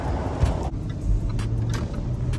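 A car engine hums steadily while driving home in a newly bought car, a continuous low road rumble from inside the cabin with faint clicks and no talking.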